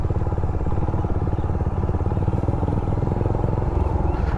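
Suzuki Raider 150 motorcycle riding over a rough road, its engine a steady close mid-pitched drone with rattling clatter throughout, no talk over it.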